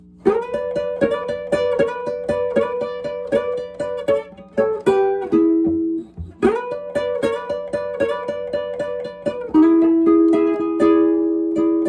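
An electric guitar plays a Chicago blues lesson phrase, a repeated riff of plucked notes in steady rhythm that repeats twice with a bending, descending turnaround, played alone with no talk.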